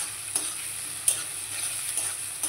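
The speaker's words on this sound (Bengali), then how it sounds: "তো মশলার সঙ্গে ভেজে নেবো।" Cashews and raisins fry with spices in a pan for a Bengali paneer posto, giving a steady soft sizzle with a few sharper pops and stirring scrapes.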